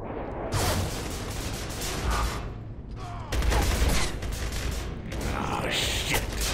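Sustained heavy automatic gunfire from Gears of War 3, a dense continuous fusillade with mechanical rattles that pauses briefly and resumes loudly.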